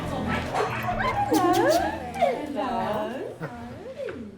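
A rescue dog whimpers, yips and barks loudly and close by, with high rising and falling whines throughout and people talking over it.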